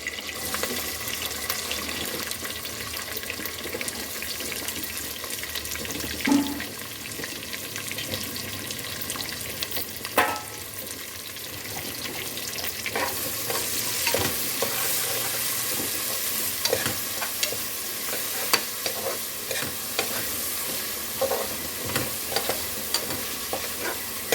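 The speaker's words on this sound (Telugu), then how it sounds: "అలాగే పచ్చిమిరపకాయలు అలాగే ఉల్లిపాయలు కూడా వేసేసుకుంటున్నానండి" Green chillies and onions fry in a pan for a country chicken and egg curry, giving a continuous sizzle that grows brighter partway through, with occasional spoon scrapes and knocks and a running-water-like hiss, no voices.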